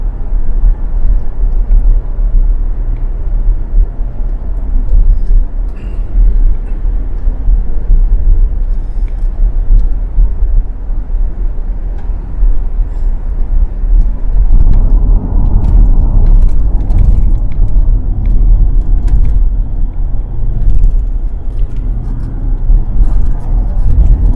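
A Range Rover L322 drives over a potholed road with poorly done repairs, producing a loud, steady low cabin rumble that swells into heavier, bumpy thumping in the latter half.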